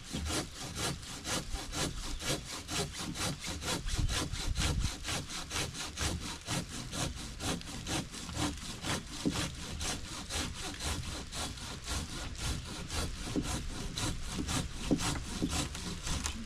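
A Silky Sugowaza 420 handsaw cuts through a 4 or 5 inch piece of hard maple with steady, rapid back-and-forth rasping strokes, close and continuous throughout with no talking.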